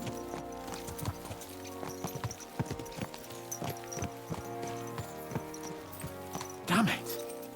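Horse hooves in the video game Kingdom Come Deliverance II clip-clop in a steady walking rhythm at moderate volume, mixed with tonal game ambience and voices.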